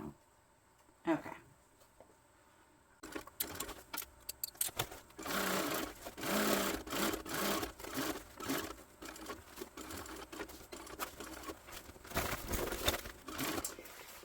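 A home sewing machine stitches a Rachel tote bag in a long run of quick, uneven bursts and steady whirring, preceded by a few quiet handling clicks.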